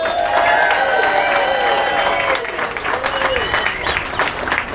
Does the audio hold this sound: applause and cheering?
yes